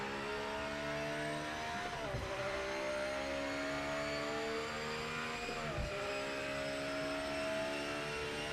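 A Ford Mustang GT500 race car in the Project Motor Racing video game roars steadily at high revs, its engine note dipping briefly twice as the driver lifts off the throttle and then climbs straight back up, loud and continuous throughout.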